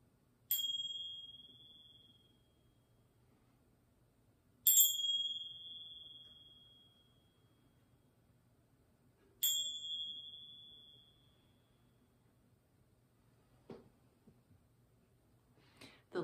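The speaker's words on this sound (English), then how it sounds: "Take in the sound of the bell." A meditation bell rings three times at even intervals in a quiet room, each strike a clear bright tone that rings out and slowly decays, followed by faint soft knocks.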